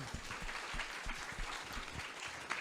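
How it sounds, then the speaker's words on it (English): Audience at a brand design talk for freelancers in Vancouver applauds, a moderately distant, steady patter of many hands clapping with irregular louder claps. "Round of applause for that"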